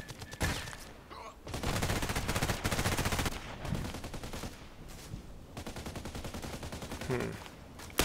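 Fast-firing automatic weapons in a shooter video game let off long, dense bursts of rapid gunfire, loud and close, broken by brief pauses.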